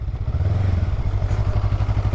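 A 2023 Honda Rebel 500 SE motorcycle engine revs slightly too high in a low gear, a steady, loud, close throb with a deep pulsing low end and a faint clattery edge, running alone without talk.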